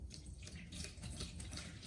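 Water-based Metal Rescue rust remover is poured into an emptied, rinsed Ducati motorcycle fuel tank, giving a steady, faint, continuous liquid splash and trickle with no talking.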